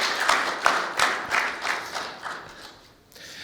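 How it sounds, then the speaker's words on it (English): Applause from a conference audience at the South East Europe meeting, a moderate crowd clapping in loose rhythmic bursts that slowly thin out and fade toward the end. "Really big round of applause to all of them"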